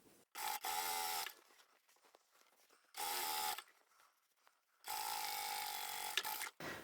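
A sewing machine top-stitches the long top edge of a fabric pocket for a reversible lined shopping tote, running in three separate bursts of steady whirring separated by quiet pauses, close and clear.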